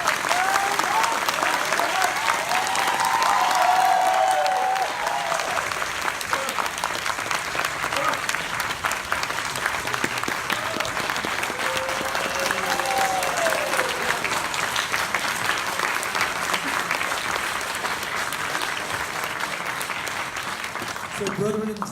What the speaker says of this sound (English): Round of applause to Sir Jennifer Generation.